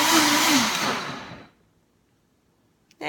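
A blender whirs loudly as it blends a Shakeology shake, with the motor pitch wavering, then cuts off abruptly, leaving near silence before a faint clatter at the end.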